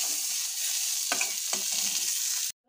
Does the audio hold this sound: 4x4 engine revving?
no